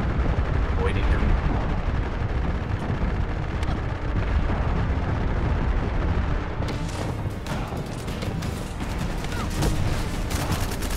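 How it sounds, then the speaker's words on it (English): Heavy gunfire in The First Descendant during a boss fight, a continuous roar of automatic shots mixed with booming blasts, loud and dense throughout, with a voice speaking underneath. "now I'm shooting"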